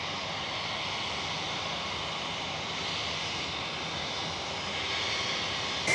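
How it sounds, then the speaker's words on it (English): A Singapore Airlines Boeing 787-10 Dreamliner at Perth Airport gives a steady, broadband jet roar that holds even for several seconds, heard at a distance, swelling slightly near the end as the engines spool up for takeoff. "we've got a Singapore Airlines Boeing 787-10 Dreamline, bound for, of course, Singapore Changi Airport"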